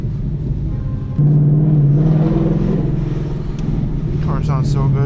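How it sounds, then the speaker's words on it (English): A 450-horsepower Ford Mustang GT drones steadily while cruising, with a loud low engine note that steps up after about a second and holds, occasional faint road noise around it. "Car sounds so good."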